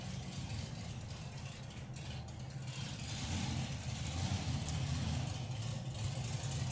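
Supercharged drag race cars, a 1932 Ford hot rod and a Hillman panel van, idle at a nostalgia drag meet with a deep, steady, lumpy engine rumble that swells slightly toward the end amid outdoor crowd noise.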